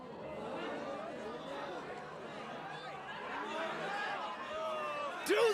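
Anime sumo crowd murmuring: a steady, dense babble of many spectators chattering at moderate distance, continuous throughout with a brief louder swell near the end.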